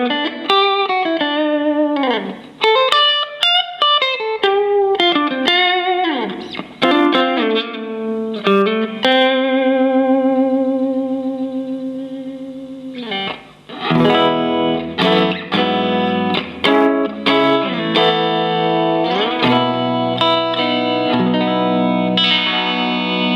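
An electric guitar on its single-coil middle pickup plays through a 2002 Fender Twin amp on the clean channel, with ringing notes, bends and slides, then sustained chords and busier phrases, loud and close.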